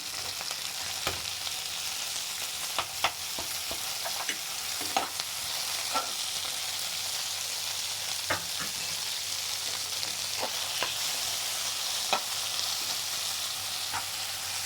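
Chopped tomato sizzles steadily in a hot frying pan while being stirred, with scattered scraping clicks from the spoon over a continuous hiss and no voices.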